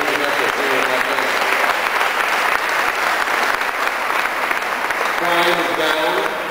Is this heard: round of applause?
yes